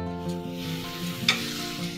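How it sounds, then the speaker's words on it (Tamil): Baby corn, peas and beetroot sautéing in oil give a soft, even sizzle with a faint low hum beneath and a brief spoon scrape near the end, close and without speech. "நாம் பேபிகார்ன் பட்டாணி, அதுக்கப்புறம் பீட்ரூட், இந்த காயெல்லாம் கொஞ்சம் எண்ணெயிலே வதங்கட்டும்"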